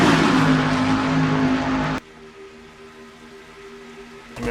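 Stock race cars in a video game racing series at the Coca Cola 600 race, a loud sustained engine drone that cuts off abruptly partway through, leaving a quieter hum before the roar returns at the end.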